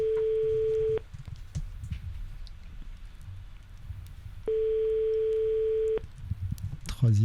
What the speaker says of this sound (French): Troisième sonnerie.